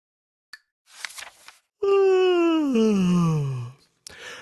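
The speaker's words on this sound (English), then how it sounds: "He stretched and yawned loudly" A loud, drawn-out vocal yawn that slides downward in pitch, framed by brief breathy sounds before and after.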